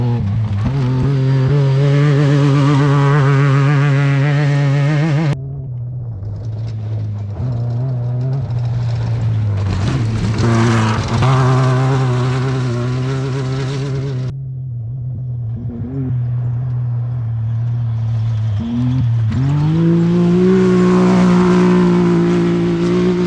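Off-road desert race vehicles thunder past one after another at a desert race, loud engines droning with rising and falling pitch as each approaches, passes close and fades, with brief dips between passes.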